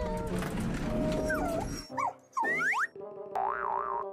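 A cartoonish dog in the Poppy Playtime Chapter 3 video game yelps and whimpers in short, pitch-bending cries after a noisy stretch of game sound, with springy boing-like effects mixed in, loud and close.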